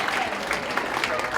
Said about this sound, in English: give a hand clap, man